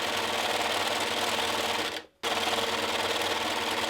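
A sewing machine stitches a Halloween costume in a steady, loud, close whir of rapid needle strokes, broken by one brief stop before it resumes.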